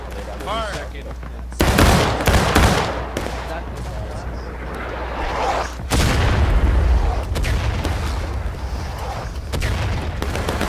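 Loud musket volleys crack out in a Civil War-era battle in the War of Rights game, with sharp bursts near two and six seconds and scattered shots between, while voices call out over the firing.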